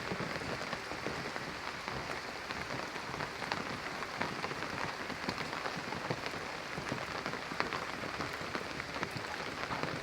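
Pouring rain in a Bangladeshi village drums steadily on surfaces, a dense, even hiss of countless drops with no voices, fairly soft and constant throughout.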